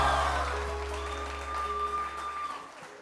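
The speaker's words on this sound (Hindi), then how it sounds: "थोड़ा सा शोर चाहिए मुझे और तालियां चाहिए जोर से" Studio audience of a TV morning show claps loudly at first, the applause thinning and fading across a few seconds while a steady low hum and a faint tone sit underneath.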